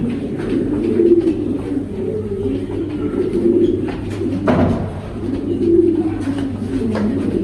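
A blue moonmark Pomeranian pigeon coos close by in a series of low, rolling coos that repeat steadily over a constant background hum.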